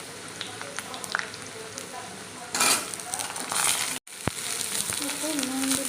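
Cut potatoes and eggplant frying in a pan give a steady, close hiss that surges louder for a moment partway through, with a brief dropout near the end.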